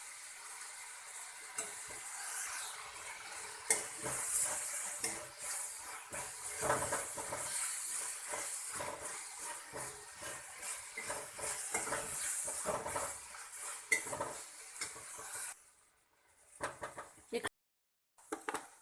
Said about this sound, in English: We need to cook this until tomato gets soft. Now I am adding turmeric powder.